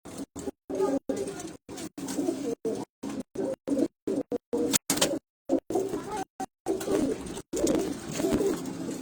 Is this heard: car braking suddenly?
no